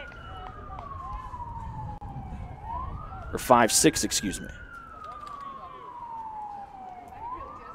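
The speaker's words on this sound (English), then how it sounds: "Has some sirens going off in the background." During a high school baseball tournament game, an emergency vehicle siren wails steadily in the background in long rising and falling sweeps, while a commentator speaks briefly over it partway through.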